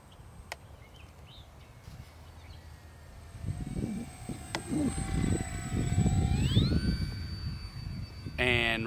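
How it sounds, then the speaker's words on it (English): E-flite P-39 Airacobra 1200mm RC model airplane making a slow flypast with one notch of flaps, its motor whine rising in pitch as it passes nearby, with a person talking over it. "I'm gonna go ahead and do my one position of flaps for a nice slow pass."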